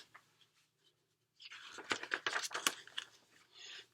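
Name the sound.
matzah crunching as it is broken in half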